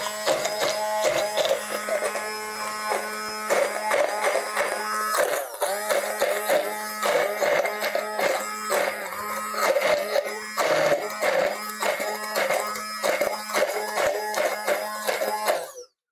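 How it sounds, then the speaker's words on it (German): A kitchen blender purees chicken tajine with pumpkin and cranberries, a loud continuous motor whir with a steady buzzing hum, shifting pitch slightly as it churns, close and alone. "Ich muss mal ganz kurz hier rüber und pürieren."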